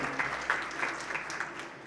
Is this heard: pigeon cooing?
no